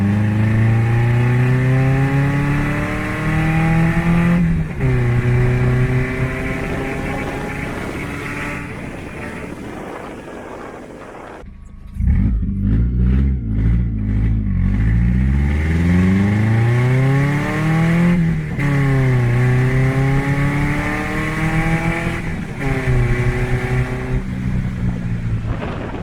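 Subaru GC8 RS TI being driven with a sketchy clutch and weak brakes, engine revving steadily with rising and falling pitch through gear changes, loud and close, with a sharp burst of heavier revving midway.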